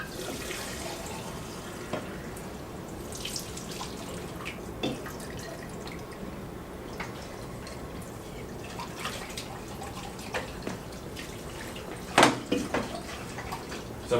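Water runs and drips at a sink while film developing tanks are rinsed out, giving a low steady trickle with scattered drips and a brief louder splash near the end.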